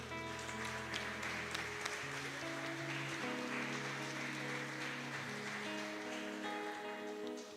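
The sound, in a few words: applause in a church service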